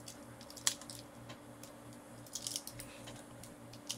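A few sharp snips of small Swiss Army knife scissors, close and quiet, spaced irregularly against a low steady hum.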